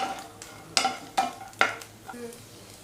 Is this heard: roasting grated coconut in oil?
yes